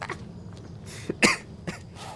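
A few rough coughs and throat-clearing bursts from an in-game character in Banishers: Ghosts of New Eden, a sharp loud hack in the middle with smaller ones around it, then quiet between.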